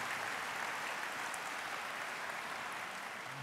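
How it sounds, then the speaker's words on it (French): An audience applauds after thanks in an opening speech by the president of the Eurométropole de Strasbourg, a steady, faint wash of clapping from a hall crowd with no voices over it. "Merci pour eux de vos applaudissements."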